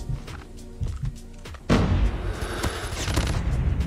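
Call of Duty Mobile match with gunfire, a few soft thumps early on and then a louder burst of shooting and explosion-like rumble that keeps going to the end.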